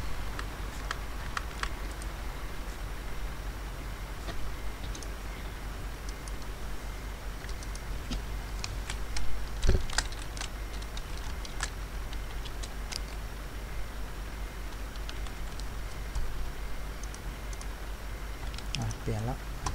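Typing on a computer keyboard during a Euro Truck Simulator 2 multiplayer session, with scattered light clicks and taps over a steady engine drone while people talk now and then.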